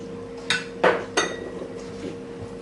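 A few sharp clinks of glass and metal, like a lid being handled and screwed onto a jar, close by against a quiet kitchen hum.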